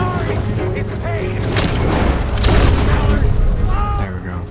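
Loud bursts of gunfire in the Red Dead Redemption II video game, broad booming shots overlapping amid game noise, with a voice talking over parts of it.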